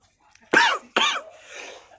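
A man coughs twice in quick succession, close and loud, with a rougher throaty trailing sound after the second cough; setting is aboard a fishing boat.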